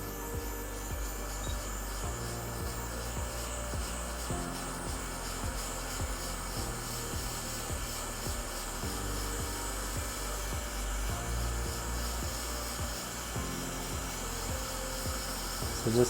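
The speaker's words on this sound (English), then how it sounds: "So I'm using a quick hot air station." A quick hot air rework station set to about 425 Celsius heats a battery connector on an iPad logic board, giving a steady, close airflow hiss with faint tool noise throughout, no talking.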